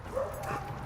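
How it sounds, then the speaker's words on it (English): A dog barks and yips at passersby during an on-leash training walk, giving one short, fairly close burst with a whiny, tonal edge. "this dog that's barking at us"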